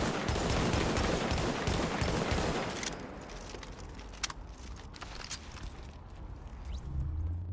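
M1A rifle fire in Tom Clancy's The Division, a dense rapid volley of loud shots for about three seconds, then quieter scattered single shots and ambient game noise.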